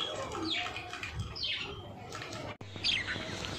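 A flock of pet budgies kept on a rooftop terrace gives repeated high, sweeping chirps and twitters. The calls overlap in short waves close by, with a brief dip near the end.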